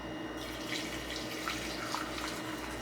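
Coffee water running through a strainer while baking a cake from scratch, a steady close splashing trickle into a bowl that flows without pause from start to end, with no one talking.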